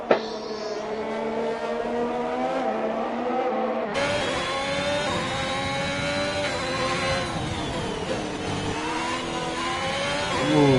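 Onboard engine of a race car in a racing game on a flying lap, revving loud and high through rising and falling gear shifts, with a sharp step up in intensity partway as the throttle opens, no voices.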